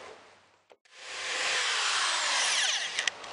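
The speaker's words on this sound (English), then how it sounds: "we're drilling a hole through the top so that we can put the power cord to the lamp inside" A power drill bores a hole through the wooden top of a homemade chick brooder box, a loud, close, sustained whine that kicks in after a short pause and runs steadily, with a couple of clunks at the end.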